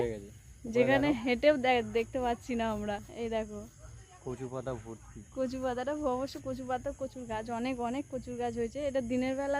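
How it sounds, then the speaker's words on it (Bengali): Crickets chirp as a thin, continuous high-pitched trill over muddy, grassy village ground thick with taro plants in the rainy season, steady and faint beneath a person talking throughout. "রাতে যে ঝিঝি পোকাটা ডাকে সেটা ডাকছে"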